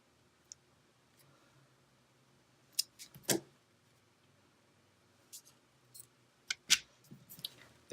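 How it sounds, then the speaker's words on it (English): Snips of wire cutters trimming excess jewelry wire after wrapping a pendant loop for an earring, a few sharp close clicks spaced apart with a cluster near the end, otherwise quiet. "We cut off the excess wire."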